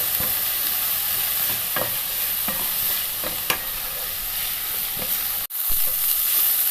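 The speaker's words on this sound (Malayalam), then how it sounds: "ഇതൊന്ന് നന്നായിട്ടൊന്ന് വഴറ്റിയെടുക്കണം." Chopped ginger and garlic sautéing in a pan with onion, a steady loud sizzle with periodic stirring scrapes and clicks, briefly cut by a short dropout near the end, no voices.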